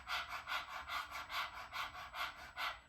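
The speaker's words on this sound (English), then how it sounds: "Stick your tongue out and start panting like a dog." Rapid breath-of-fire panting with the tongue out like a panting dog during a guided breathwork exercise, about ten quick, even, breathy huffs in steady rhythm, close and fairly soft, with no talking.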